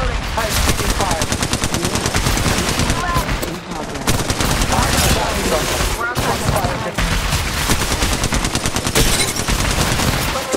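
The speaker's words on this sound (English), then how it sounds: "I'm taking fire." Sustained automatic gunfire in the mobile battle royale Apex Legends Mobile, loud rapid rattling bursts filling the whole stretch, with faint in-game voice lines mixed underneath.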